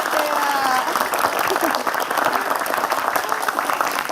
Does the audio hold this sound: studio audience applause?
yes